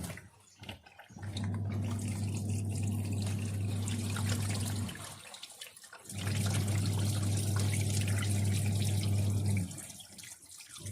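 Liquid poured into a car battery during repair at home: two steady trickling pours of several seconds each, separated by a short break, with a faint low hum beneath, close and fairly quiet.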